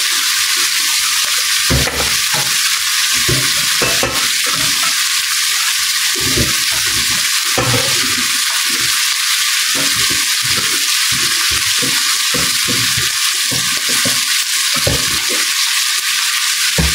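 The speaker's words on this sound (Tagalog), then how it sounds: "Igigisa ko lang po ng kaunti bago ko po lagyan ng ibang mga pampalasa." Chicken feet, heads and liver sauté in a pan with a loud, constant sizzle and crackle, and a spatula scrapes and stirs in irregular bursts, close up and with no talking.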